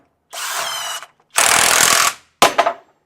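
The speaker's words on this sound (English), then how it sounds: "So the auto tighten mode tightens it a little bit, impacts it a little bit, and then actually shuts the tool down." Kobalt 24V brushless mid-torque 1/2-inch impact wrench in auto tighten mode: a loud close whir, a longer burst of rattling impacts, then a short final hammering burst before the tool shuts itself off.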